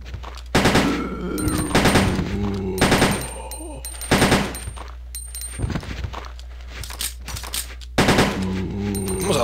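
Gunfire in the video game Resident Evil 2. Loud, separate shots ring out in irregular bursts, each followed by a brief echoing tail, spread across several seconds.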